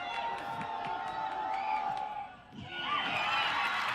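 A stadium crowd at a Class 5A boys high school soccer state championship penalty shootout roars continuously, dipping briefly before surging again in cheering.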